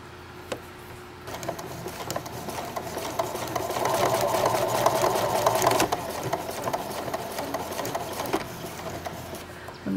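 A sewing machine stitches a tote made from a placemat, a fast, even mechanical whir with ticking needle strokes running steadily up close, swelling slightly in the middle.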